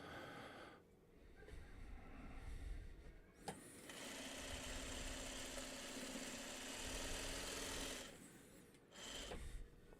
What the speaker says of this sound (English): I'm just going to continue sewing some 4 patches here for a while